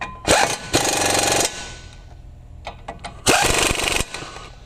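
A power tool tightens the brake bolts on a 2006 Duramax 2500HD truck during a Duralast GT brake install, running in two loud buzzing bursts about a second long each, with short clicks and quieter gaps in between.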